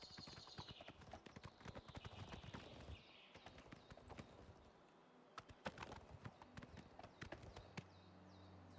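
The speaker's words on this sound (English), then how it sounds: "this is walking on the horse. This is the horse's slowest speed" Horse hooves clip-clopping at a slow walk in the video game Oblivion, a steady run of crisp, close hoofbeats, with an occasional whinny.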